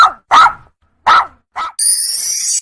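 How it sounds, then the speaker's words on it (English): A dog barks four times in quick, separate bursts, fairly loud and close, with no other sound around the barks. "Dog."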